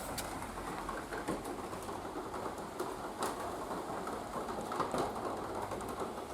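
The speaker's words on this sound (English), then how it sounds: "apologies for the rain noise," Steady rain falls outside a garage where a Triumph Spitfire is being worked on. It makes a continuous close hiss with scattered light taps and patters and no voices.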